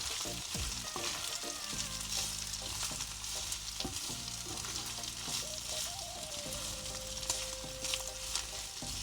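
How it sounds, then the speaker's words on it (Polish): Minced meat frying in a small saucepan for Greek makaronia me kima, a steady close sizzle with scraping stirs and clinks, overlaid by background music with sustained tones, no talk. "Podsmażam go przez chwilkę."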